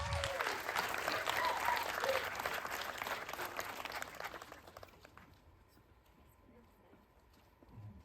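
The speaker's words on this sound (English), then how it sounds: "I want some clapping hands" A planetarium audience at a university astronomy slam applauds, dense clapping and cheering for about five seconds that then fades into quiet with a faint voice.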